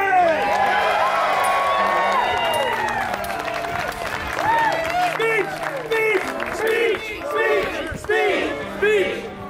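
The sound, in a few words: crowd applause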